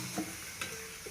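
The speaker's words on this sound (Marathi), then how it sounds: "आता याला उकळी आली ना" Fish curry masala coming to a boil in a pan, a soft steady bubbling and sizzle with a few brief stirring clinks, close and fairly quiet.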